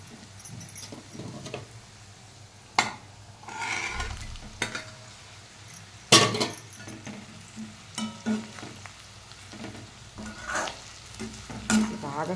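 Eggplant pieces sizzle in a pan with onion, ginger and garlic paste while a utensil stirs and scrapes them. A low frying hiss runs underneath irregular, close metallic clinks and scraping strokes, with one sharp clank partway through.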